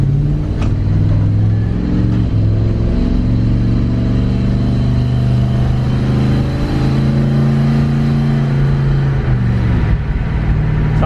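Work van with aftermarket headers on a test drive, its engine and exhaust droning steadily throughout with shifting harmonic tones as it revs and changes gear, close and loud from inside the cab.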